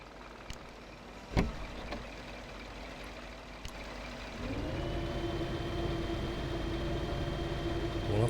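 A heavy off-road truck in Spintires: Mudrunner: quiet ambience with a few sharp clunks, then a diesel engine starts up and drones steadily at a low pitch.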